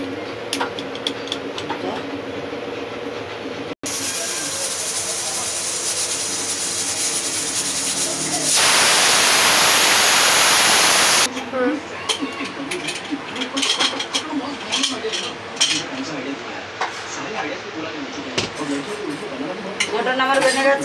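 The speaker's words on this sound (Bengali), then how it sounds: "কুকারের মধ্যে আমি 2টো সিটি দেবো, 3টে হবে না, আমি বন্ধ করে দেব।" A pressure cooker with mutton inside lets out a loud, steady hiss of steam for a few seconds in the middle of otherwise busy kitchen noise and talk.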